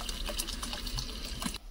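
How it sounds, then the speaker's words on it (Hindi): Water poured into a fish curry being cooked at a truck stop, a steady splashing rush running nearly two seconds before cutting off abruptly. "तो चलिए डालते हैं पानी"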